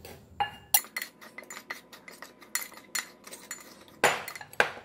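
Flour, spice powders including turmeric, and salt are mixed in a bowl for coating bitter gourd, heard as close, irregular clinks and scrapes of a utensil against the bowl, with a few sharper knocks toward the end.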